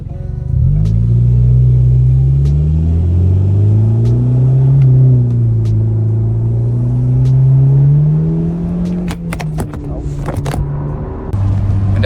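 2021 Honda Civic Hatchback accelerating hard, a loud close exhaust rumble climbing in pitch through the gears, followed by sharp blow-off valve hisses and clatter as the throttle lifts near the end.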